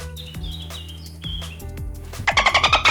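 Birds chirp outdoors, a few scattered calls giving way to a quick, bright run of rapid chirps near the end, fairly close and clear over light background sound.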